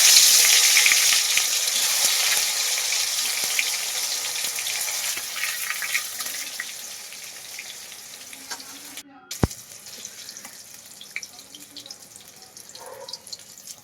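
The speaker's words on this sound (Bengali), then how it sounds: "এবার তেলের মধ্যে দিয়ে ভালো করে একটু ভেজে নিতে হবে।" Eggplant slices coated in salt and turmeric fry in hot oil for a Bengali fish curry meal, giving a steady broadband sizzle that gently fades over time, with a brief clatter near the end.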